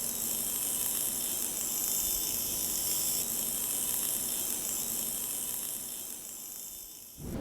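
Steady high-pitched hiss and whir of an industrial part being hand polished with polishing paste in a repair workshop, continuous and fairly loud throughout, fading slightly near the end.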